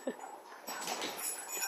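A small dog gives a brief high whimper at the start, then noisy rustling and faint voices fill the rest of the short moment.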